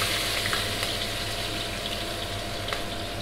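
Cumin seeds sizzling in hot oil for a Punjabi kadhi tadka, a steady dense frying hiss running throughout with faint crackles, close and continuous with no talking.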